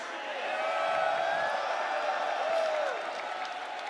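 A large crowd at the EVO 2025 fighting-game tournament cheers for the player Curated, a steady, loud roar that swells and holds for several seconds.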